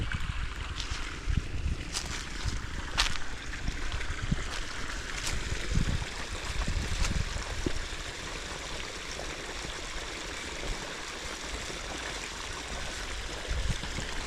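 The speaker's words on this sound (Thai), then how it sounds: "ปล่อย น้ำไหลลงมาเลย จอกๆเลย" Water flowing down a waterfall stream in Nakhon Phanom, a steady broadband rushing and splashing that holds constant throughout with scattered small splashes and light wind.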